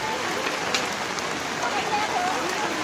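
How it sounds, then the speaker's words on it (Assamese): Rain pours steadily on surfaces at an outdoor village fair, the Bhuragaon Pabhokati Mela, making a dense, continuous patter with scattered sharper drops. "মেলা চলি থকাৰ মাজতেই এনেধৰণে বৰষুণ আহিবলৈ ধৰিলে।"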